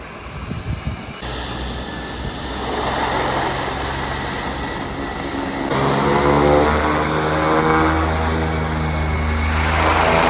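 A propeller plane's engine drones steadily nearby at Lukla airport, Nepal, a loud, continuous buzzing roar that swells even louder partway through.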